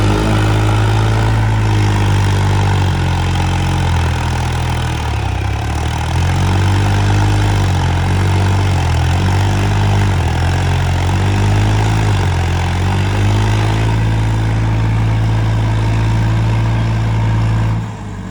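A New Holland 3630 tractor engine runs close and loud, a deep, steady diesel throb with a strong low rumble that holds evenly throughout before dipping slightly at the very end.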